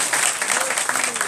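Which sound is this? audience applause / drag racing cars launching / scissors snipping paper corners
audience applause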